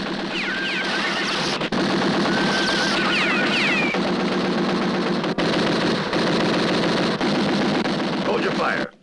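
Dense, rapid gunfire fills a scene from a western film, a sustained, loud volley of overlapping shots that rolls on nearly without pause before cutting off abruptly, with voices shouting beneath it.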